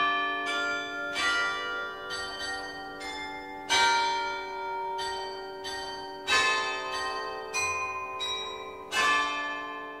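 The Swiss glockenspiel clock bells on the Swiss Centre in Leicester Square, London, chime a slow melody, each bright tone ringing out and overlapping the next, clear and resonant with no voices.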